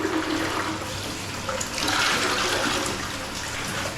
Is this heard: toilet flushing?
yes